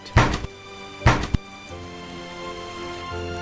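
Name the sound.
knocking on a door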